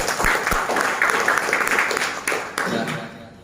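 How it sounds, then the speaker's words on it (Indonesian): Audience applause at a distributor training event, a broad wash of many hands clapping that sustains throughout and tapers off at the end, with a voice talking over it. "Tepuk tangan untuk Anda semua."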